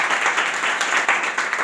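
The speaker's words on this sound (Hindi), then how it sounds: "एक बार जोरदार तालियां।" Audience applause at a Hindi motivational talk, a dense burst of many hands clapping together, steady and fairly loud for a brief moment.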